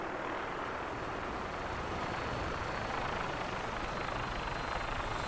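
A helicopter in the Fallout 4 video game gives off a continuous low rotor thrum with a broad whooshing rush, steady and moderately distant, with no voices over it.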